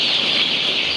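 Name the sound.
chickens clucking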